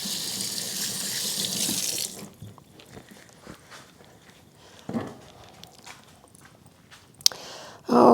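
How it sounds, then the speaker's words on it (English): Running water from a tap splashes steadily while hands are washed in a kitchen sink, loud and close for about two seconds, then cuts off, leaving faint handling noises and a brief clatter at the end. "Washing hands."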